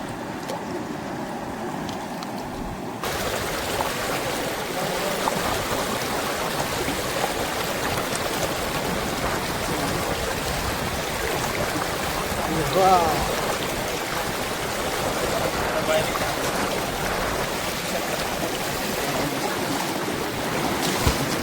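A river rushes steadily through the dark during a night fishing outing, its broadband flowing wash continuous and fairly loud throughout, with no distinct breaks.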